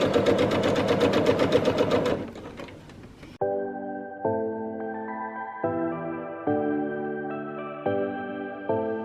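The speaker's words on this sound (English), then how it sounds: "And now we'll keep sewing down this edge." Sewing machine stitching quilt binding: a fast, buzzing run of stitches at first, then a pause, then steady tonal whirring in short stepped segments, close and fairly loud, with no talk.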